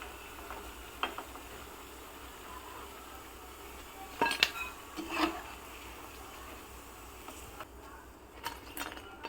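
Fried McPuff pastries lifted from a pan onto a plate in a home kitchen, with a few soft clinks and taps of utensil on dish, sparse and close, over a quiet room background.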